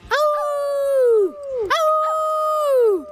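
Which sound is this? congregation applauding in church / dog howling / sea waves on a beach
dog howling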